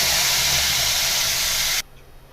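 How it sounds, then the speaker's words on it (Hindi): Tomato puree poured into a hot pan for a paneer makhana curry, giving a loud, close, steady steamy hiss that cuts off abruptly after about two seconds, leaving quiet background. "अब मैं इसमें टमाटर प्यूरी डाल रही हूँ।"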